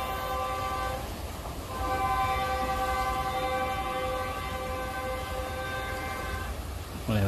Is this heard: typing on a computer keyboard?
no